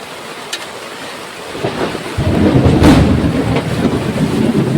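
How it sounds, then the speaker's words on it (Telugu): Rain begins falling in a forest, a faint hiss that swells after a couple of seconds into a loud, dense patter with a low rumble, no voices. "ఇక్కడైతే వర్షం స్టార్ట్ అయ్యింది"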